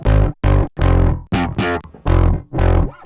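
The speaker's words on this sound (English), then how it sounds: "There's a speaker hum that's present, and that is crazy cool." Bass guitar run through Logic Pro 11's modern tube distortion, loud gritty notes in short punchy phrases separated by brief gaps where a low speaker hum lingers.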